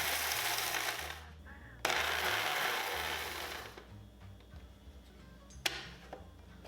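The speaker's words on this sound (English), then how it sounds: "we're gonna grind until they become powder" A grinder pulverizes dried lantern chili peppers into powder for Chinese chili oil, a loud steady whirring and rattling with a brief pause midway, then quieter grinding and a sharp knock near the end.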